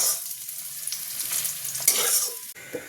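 Potato and toruli pieces fry in a pan of oil with a close, hissing sizzle. Scraping stirs punctuate it, and it drops off abruptly near the end.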